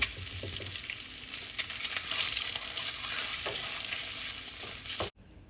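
Eggs fry and sizzle in a pan with salt and chili powder, a steady crackling hiss broken by scraping stirs, close and loud, cutting off abruptly at the end.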